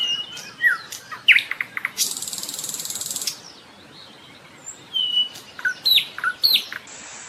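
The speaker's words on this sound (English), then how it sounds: "Example of soft sound: chirping of birds" Several birds chirp and tweet in quick bright calls, with a brief buzzing rattling trill partway through, fairly close and clear.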